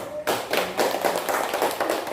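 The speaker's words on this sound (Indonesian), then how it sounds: "Tepuk tangan untuk si Faris." Children clapping in a classroom, a short burst of quick, uneven applause from a group of students heard up close, following a teacher's brief spoken remark.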